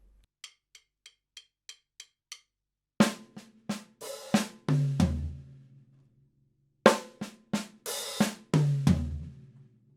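A drum kit groove in an Ash Soan-style quintuplet pattern: eight even closed hi-hat ticks count in, then two bars of hi-hat, snare and kick hits with fills, played alone in a dry practice room.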